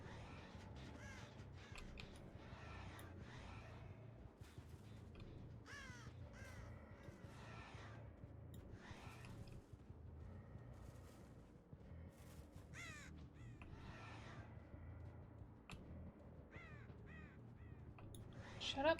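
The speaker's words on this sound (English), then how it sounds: "Shut up, crows." Crows caw repeatedly through a steady low background hum, their harsh calls coming in short bursts with some sounding fairly close; a voice talks at times under the calls.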